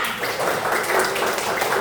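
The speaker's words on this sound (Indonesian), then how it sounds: "Beri tepuk tangan untuk bertiga." A classroom group gives applause for three students, a steady patter of clapping hands throughout at moderate volume.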